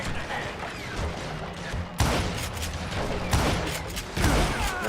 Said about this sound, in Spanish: Dos disparos